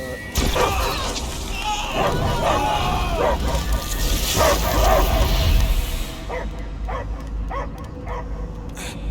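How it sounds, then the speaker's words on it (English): A dog barks and whimpers repeatedly over game sound effects and music in Marvel's Guardians of the Galaxy, with a voice speaking alongside the barking. "I hear only barking"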